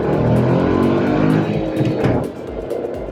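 A Renault Kiger RXZ turbo manual SUV accelerates hard in first gear and sport mode at full kick down, its engine droning loud and climbing in pitch up close before easing back.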